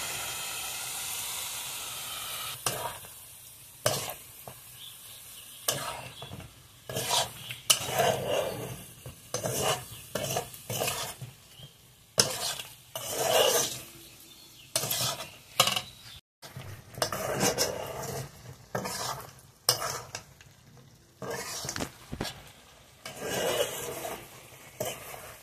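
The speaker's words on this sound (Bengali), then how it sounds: "গুঁড়ো মশলার সঙ্গে এখন মাংসটা ভালোভাবে কষিয়ে নেব" Chicken being stirred and browned with ground cumin, coriander and dried chilli paste in a pan, spatula scraping and clinking against the metal in irregular bursts over a soft sizzle, close and moderately loud.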